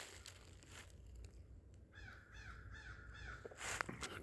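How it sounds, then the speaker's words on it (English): A crow caws in the woods with a rapid run of harsh repeated calls at mid distance, faint against a quiet outdoor background, followed by a brief louder rustle. "Crow's busy, so that means something's going on."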